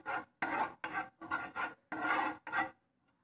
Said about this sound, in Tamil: நம்ம எடுத்து வச்சுருக்கிற 1/2 கப் பாலை உள்ளே ஊற்றி அதை நல்லா மிக்ஸ் பண்ணி விடணும்.